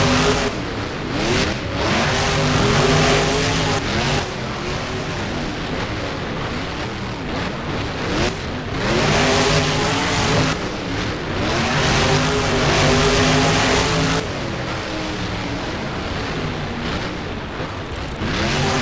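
Two monster trucks racing in the BeamNG game, their engines revving hard and roaring in repeated surges with shifting pitch as they accelerate over ramps and around turns, loud and continuous.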